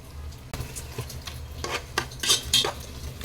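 Mushroom biryani gravy being stirred in a metal pot, with a spoon scraping and clinking against the sides in irregular bursts over a low simmering bubble, close and moderately loud, with no talking.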